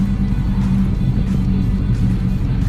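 A Dodge SRT-4 running on E85 fuel accelerates hard, its engine giving a loud, steady low rumble that drones on without a break from inside the car.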